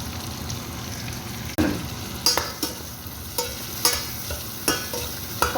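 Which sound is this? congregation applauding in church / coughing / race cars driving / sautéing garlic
sautéing garlic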